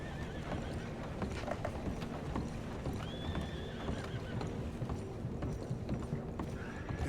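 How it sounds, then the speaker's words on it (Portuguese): A horse in the video game Red Dead Redemption 2 whinnies over a steady clip-clop of hooves, set against a dense, constant game soundscape with no clear voices. "Eu ouvi um cavalo."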